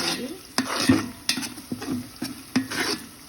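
Onions frying for green chicken pulao, a soft sizzle punctuated by sharp, regular scrapes and knocks of a spoon stirring against the pot, close up, with no voices.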